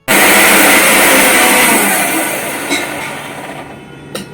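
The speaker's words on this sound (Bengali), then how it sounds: "মশলাগুলো মিক্সিতে গুঁড়ো করে নেব" A mixer grinder whirs loudly as it grinds roasted spices, starting abruptly at full power, easing slightly, then cutting off with a couple of brief knocks at the end.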